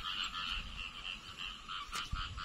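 Rice-paddy frogs call after an all-night rain, their croaks forming a steady, pulsing wall of sound, interrupted near the end by a brief soft knock.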